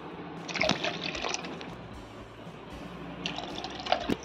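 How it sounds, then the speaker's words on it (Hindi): Chilled water is poured into a mango drink paste, producing splashy trickling bursts near the start and again near the end, with a soft wet background between and no speech. "हम चिल्ड वाटर डालेंगे।"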